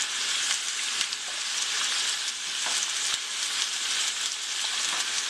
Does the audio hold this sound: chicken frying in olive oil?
yes